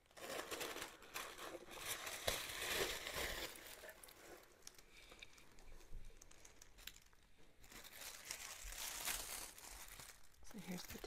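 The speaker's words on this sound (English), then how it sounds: "I'm going to show you the tissue paper" Tissue paper from an unboxed subscription box crinkles and rustles softly in irregular bursts close to the microphone, with quiet pauses between handlings.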